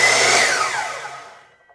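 A Bosch Glide CM10GD 10-inch mitre saw motor gives a loud, high-pitched whine that sweeps downward and fades away over under two seconds, heard close and alone.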